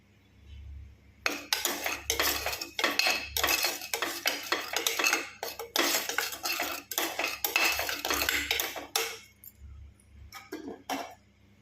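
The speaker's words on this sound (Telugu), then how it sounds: "సో ఆనియన్స్ వేసుకున్నాను, ఒకసారి మిక్స్ చేసుకున్నాం." Utensil stirring onions frying in oil in a pan for beans kurma, with repeated scraping and clinking strokes in bursts and short pauses, fairly close and steady, with no talk.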